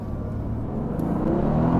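A Mercedes-AMG GT S in race mode accelerates on a track, its engine rumble and whir building steadily in a low, continuous drone heard from inside the car.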